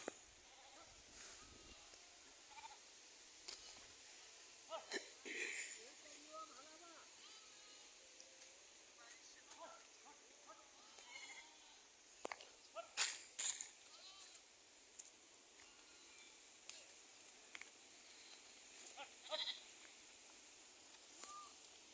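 Frightened sheep and goats in a village bleat in scattered, repeated calls during a windstorm, some near and some farther off, over a constant rushing background, with a voice speaking at times.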